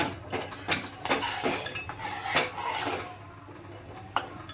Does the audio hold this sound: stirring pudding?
yes